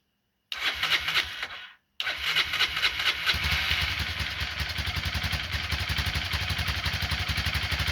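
A Honda NX 250 motorcycle engine cranks once briefly, pauses, then cranks again and fires, settling into a close, loud, rhythmic idle that chugs steadily to the end.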